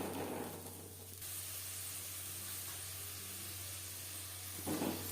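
Tomato, ginger and green chillies fried together hiss and sizzle steadily in a pan while a fish curry is cooked, a continuous close frying sound with a low hum beneath and no talking.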